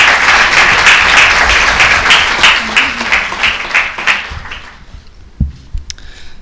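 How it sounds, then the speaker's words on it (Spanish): An audience at a lecture applauds Dr. García with loud, dense clapping that holds steady, then thins out and fades away, leaving a few scattered claps and thumps at the end. "Un aplauso para el doctor García."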